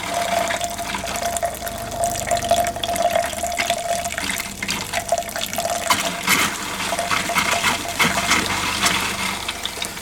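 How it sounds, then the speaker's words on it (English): An RV faucet pours antifreeze through the water line with a continuous, close splashing flow, uneven and bubbly, running steadily without any talking. "you can see I'm doing just one side of this faucet at a time"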